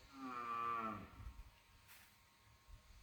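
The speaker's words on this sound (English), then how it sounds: "You can hear the cows" A single low, drawn-out cow moo in the open air of rural Yunnan, China, followed by quiet ambient noise and faint distant thumps.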